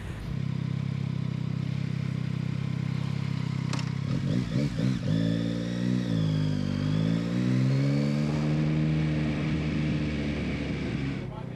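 An 09 SP motorcycle rides off-road, its engine a continuous close drone with rising and falling revs, clattering jolts partway through and wind noise throughout.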